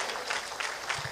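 Church congregation applauding during a sermon at a Seoul church, a short steady burst of many hands clapping in a dense, continuous patter.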